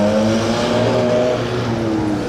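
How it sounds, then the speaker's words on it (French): A loud Ferrari 599 GTB engine with a steady, harmonic drone and slight pitch shifts, close by on a Monaco street over constant background traffic noise. "on a plus entendu cette 599 GTB"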